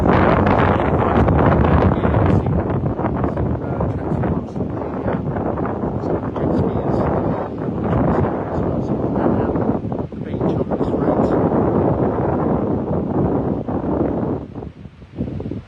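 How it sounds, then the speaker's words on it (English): Wind buffeting a microphone on a seaside pier, a heavy low rumble that rises and falls in gusts throughout, loud and constant. "It's a little bit windy today, as I said, so apologies."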